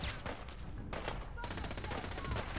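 Automated turrets fire rapid, continuous bursts of gunfire in the Fallout 4 video game, a dense and steady barrage at mid distance lasting the whole moment with no letup.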